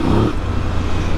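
A Voge DS800X Rally's 800cc, 95-horsepower parallel-twin engine rumbles close and loud with a deep, grunty tone, briefly rising before settling into a steady throb.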